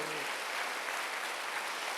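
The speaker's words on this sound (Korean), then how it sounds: "박수하세요." A church congregation at a Korean Wednesday worship service breaks into steady, dense applause, a continuous wash of many hands clapping that fills the room for the whole moment, with no one speaking over it.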